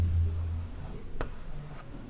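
A pen writes an Urdu word on paper, a close, soft scratching and rubbing of strokes with a sharper tap partway through, quiet and alone.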